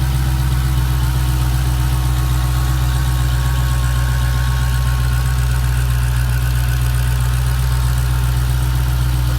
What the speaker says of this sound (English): it sounds nice and smooth, especially once the engine starts idling even quieter